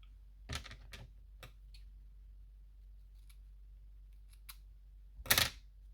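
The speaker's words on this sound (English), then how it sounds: "And now we are going to cut off these pieces" Scissors cut pieces off a paper card in a quiet room, making a few sharp separate snips, the loudest near the end, with low hum between them.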